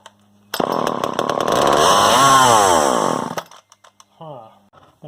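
A vintage Craftsman chainsaw with an air leak starts with a sharp pull and roars at high, steady revs for about three seconds, then cuts out, followed by brief sputtering restarts.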